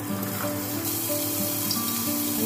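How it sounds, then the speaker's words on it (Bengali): Onions frying in hot oil make a steady, bright sizzle that crackles evenly throughout, with a faint clink of utensils and no talking. "তেল দিয়ে দিচ্ছি পেঁয়াজ দিয়ে দিচ্ছি"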